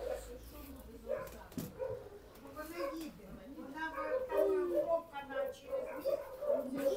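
A frightened dog in a wartime shelter in Ukraine whimpers and whines in short, uneven bursts close by, mixed with people talking softly throughout.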